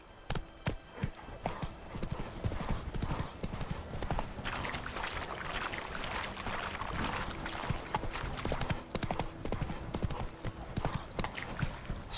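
Horse hooves clip-clop at a steady gallop in The Witcher 3, with occasional snorts and whinnies over a busy backdrop of game ambience, close and continuous throughout.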